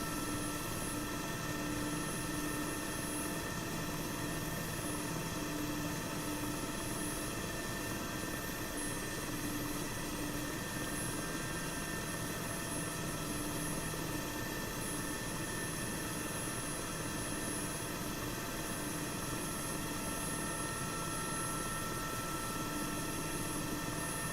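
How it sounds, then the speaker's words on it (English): Steady, loud drone of a Mi-8MTV helicopter's turbine engines and rotor in a flight simulator game, a continuous hum with a rhythmic rotor beat and no talk throughout. "Can't ever be in a hurry in a helicopter."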